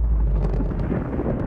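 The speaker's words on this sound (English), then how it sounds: "it's gonna blow up right underneath the moon" The Aurora ship's reactor exploding in the video game Subnautica, a brief loud low rumbling blast with a roaring wash, no voices.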